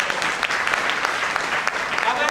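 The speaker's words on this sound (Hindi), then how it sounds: "एक बार जोरदार तालियां माननीय प्रदीप जैन के लिए" A crowd at a network-marketing training session claps loudly and densely for honoured guest Pradeep Jain, a continuous burst of applause with quick overlapping hand claps filling the room.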